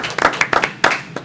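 A short burst of a few people clapping at a city council meeting, close and fairly loud, a handful of uneven claps over about a second.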